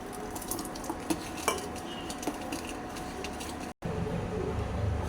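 A spoon scrapes and clinks against a metal pot as sago kheer is stirred with sugar, with close, irregular taps over a low simmering hiss and a brief dropout near the end.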